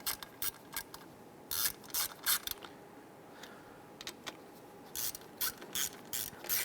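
A ratchet snugging down the screws on the rear power window motor of a 1995–2001 Ford Explorer, bursts of quick metallic clicking strokes repeated in short groups with brief pauses between, close and crisp, no talking.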